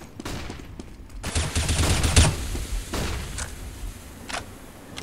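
Gunfire in a Counter-Strike esports grand final match: scattered shots and short bursts, some sharp and close, others more distant, under busy game ambience.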